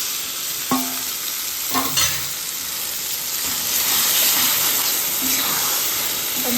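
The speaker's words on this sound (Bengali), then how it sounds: "এবার মা এই মাছটাকে এর মধ্যে দিয়ে দিচ্ছে।" Fish frying in spice masala in a pan, a continuous close sizzle with a few clinks and scrapes of stirring against the pan.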